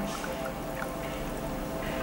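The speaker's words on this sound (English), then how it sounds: "you're going to take one glass of water, the one that has the water, and you're going to pour it onto the other one" Water pours from one drinking glass into another, a soft, continuous trickling splash at low level against a faint background hum.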